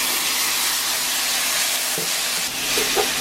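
Kimchi, onions, Spam and ham stir-fried in a hot pan for kimchi fried rice, giving a steady close sizzle and hiss throughout, with a few soft scrapes of stirring near the end.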